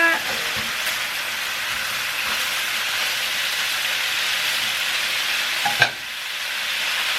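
Food sizzles and fries steadily in a hot pan while being sautéed for a home-cooked Filipino dish, with a constant close hiss and one sharp scrape or clank of stirring near the end. Nobody talks.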